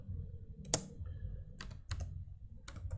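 A few scattered keystrokes click on a computer keyboard, sharp isolated taps with pauses between, faint and close over quiet room hum.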